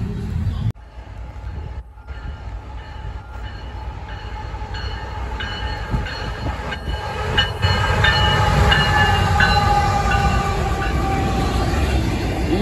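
BNSF and Union Pacific freight train rolling past up close, a loud rumble of wheels and cars building steadily over several seconds, with brief horn-like tones early on.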